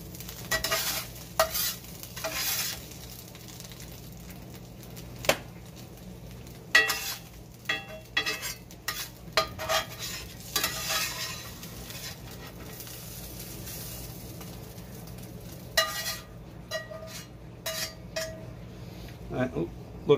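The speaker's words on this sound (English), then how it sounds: "Let me show you how we're going to clean this pan up." A new, smooth-bottomed, well-seasoned Lodge 10.25-inch cast iron skillet is scrubbed and scraped, giving a continuous soft rasping with scattered sharp clinks and knocks over a low background hiss and occasional faint voice.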